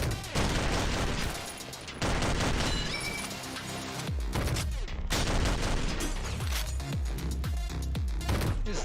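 Rapid gunfire and booming shots from the top-down roguelike shooter OTXO fill the clip, dense bursts of loud fusillade-like fire layered over a driving music track, with a brief lull near the middle.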